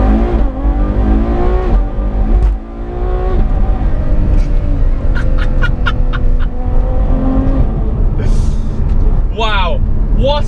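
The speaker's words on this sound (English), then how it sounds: "Have you heard those upshifts?" Ferrari F12-based supercar with 6% shorter gear ratios revving hard and climbing through rapid, seamless upshifts, each rising engine wail cut by a short dip, loud and close, with someone talking over it.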